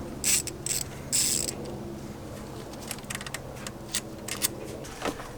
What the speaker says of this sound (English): we need a 10mm socket to take off the bolts